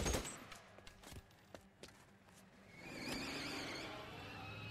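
Drive-by gunfire in L.A. Noire: a few sharp, fairly faint gunshot cracks in quick succession, followed by a car engine revving and surging past in the distance.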